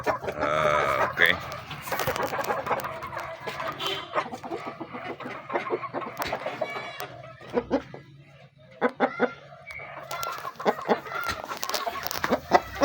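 Pet chickens clucking close by in a backyard, with a person talking over them in short bursts and brief quieter gaps between the calls.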